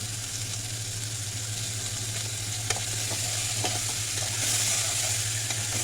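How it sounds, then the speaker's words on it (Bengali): Broiler chicken stir-fried in mustard oil for a spicy barbecue bhuna, with a steady close sizzle and scraping stirring strokes throughout, plus a constant low hum underneath. "আবারও কষিয়ে কষিয়ে রান্না করছি পোড়া পোড়া ভাবটা যেন চলে আসে"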